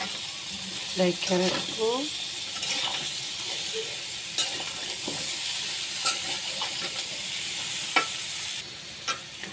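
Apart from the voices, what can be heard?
stirring potatoes and pointed gourd frying with rohu fish in a pan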